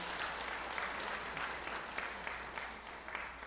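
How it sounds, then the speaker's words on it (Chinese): Steady applause from a congregation fills a church service as a guest is welcomed, moderately distant and even, with no talk over it. "我们拍手欢迎他"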